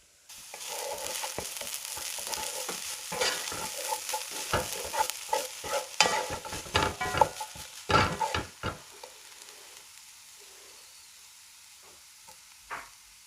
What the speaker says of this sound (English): you can now switch off your stove and mix one more time